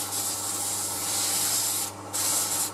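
Sandpaper rubs against wood spinning on a woodturning lathe, a loud, steady hissing scrape that holds evenly, briefly drops away for a moment near the end, then resumes at full strength.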